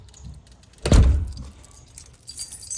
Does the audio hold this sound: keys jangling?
yes